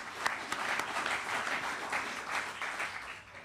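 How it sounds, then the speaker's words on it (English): An audience at a university event on NATO and collective defense gives a round of applause, a soft, continuous patter of many hands heard from a distance, with a few sharper individual claps near the start. "Let's give them a round of applause."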